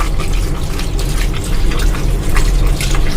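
Bombil (Bombay duck) fish being rinsed under a running kitchen tap, a steady gush of water with splashes and dripping as the fish are handled, close and fairly loud with no talking.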